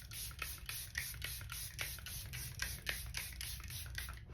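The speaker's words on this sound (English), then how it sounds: "I'm using the Airbrush Flawless Setting Spray from Charlotte Tilbury." Charlotte Tilbury Airbrush Flawless setting spray goes on in a quick run of soft, evenly spaced misting spritzes, faint and close with no voices.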